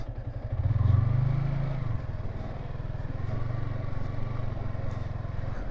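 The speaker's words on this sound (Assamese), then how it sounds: "এইখিনি জেগাতে চেটেং মেটেং কৰি দিয়ে বাইকখনে।" A motorcycle rides a rough, broken off-road village track in Nagaon, Assam, its engine droning steadily with a swell of revving at the start and a constant rattling clatter throughout.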